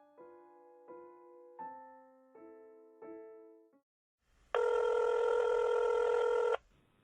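A telephone rings five times in evenly spaced trills before a voicemail picks up, followed by a single loud, steady beep tone lasting about two seconds.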